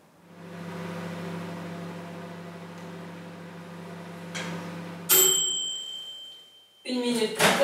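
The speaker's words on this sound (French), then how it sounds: "Il n'y a plus qu'à fermer et mettre au micro-ondes une minute." A microwave oven running with a steady low hum, then its door or controls clicking and a bright ding-like tone near the end; no one speaks over it.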